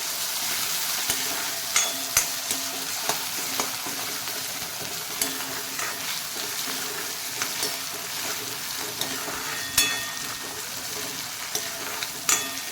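Onion and tomato sauté in a pan for a dried bombil (Bombay duck) curry, giving a steady sizzle with repeated scraping and stirring clicks throughout, close and fairly loud, with no talking.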